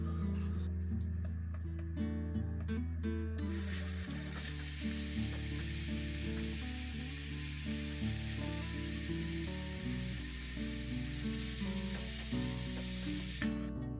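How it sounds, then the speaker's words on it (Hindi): Arhar dal cooks in a pot with turmeric, salt and chilli, giving a steady, close sizzling hiss that rises sharply and holds for about nine seconds over a soft musical backing before cutting off. "हल्दी नमक और मिर्चा यही सब डाल के दाल को बैठा देते हैं हम"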